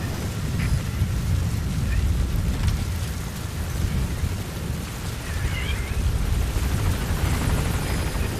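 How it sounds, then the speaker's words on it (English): Support helicopter arriving at a landing zone in Metal Gear Solid V: The Phantom Pain, a dense rotor rumble and wind wash holding steady throughout, with voices talking over it. "Support helicopter has arrived."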